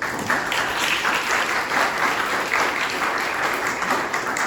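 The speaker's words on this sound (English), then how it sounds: "So a round of applause for all of our candidates." An audience at a Lindale mayoral candidates forum applauds the candidates, steady, even clapping from many hands at moderate loudness, sustained from start to finish.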